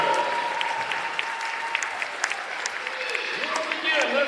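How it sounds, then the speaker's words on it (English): An arena crowd at a Houston Baptist women's basketball Senior Day game applauds a senior player, steady clapping with scattered whoops under an announcer's amplified voice. "A big round of applause, our final senior here on Senior Day"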